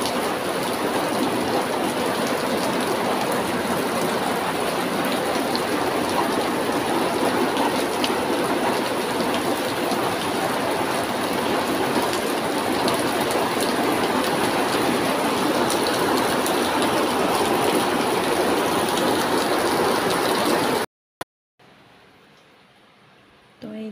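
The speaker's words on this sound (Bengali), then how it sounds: "রান্না করতে করতে আবার বৃষ্টি চলে আসছে" Rain pours steadily outdoors near a home kitchen, a dense continuous hiss of drops on surfaces that holds evenly for about twenty seconds before cutting off abruptly.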